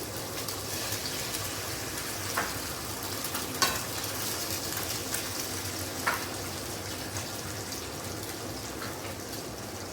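Steady crackling sizzle of eggs frying in hot bacon grease in a pan, continuous and close, with a few sharper pops and taps rising above the hiss.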